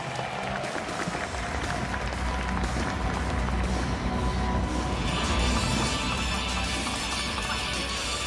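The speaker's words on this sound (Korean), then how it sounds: "두 번째 매치 대한민국 김영준 중국의 차이자이 경기 그 1세트부터 박수 함께 만나보시죠." An audience at a Dungeon & Fighter F1 esports tournament claps in a dense, continuous wash of applause that stays loud and even throughout, with faint crowd noise mixed in.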